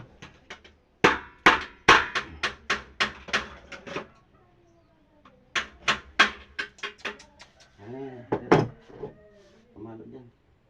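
Hammer blows on a surface in two rapid bursts of sharp, evenly spaced strikes, close and loud, separated by a short pause, with someone speaking briefly near the end.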